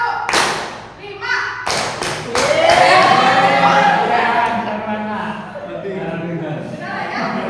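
A class claps once on cue, then a quick burst of several loud unison claps follows, with voices talking over and after the clapping.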